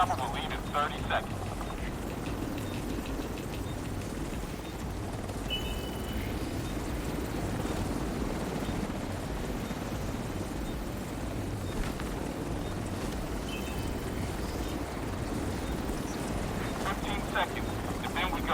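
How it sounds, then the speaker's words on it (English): Helicopter in The Division 2 on PC, a steady low rotor rumble and engine drone holding through the whole stretch at moderate level, with game noise and speech-like sound mixed in. "Chopper will leave in 30 seconds."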